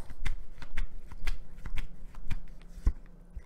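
Tarot cards being shuffled and drawn: a series of soft, crisp riffling snaps and flicks in an irregular rhythm, close up and fairly quiet, with a firmer tap near the end.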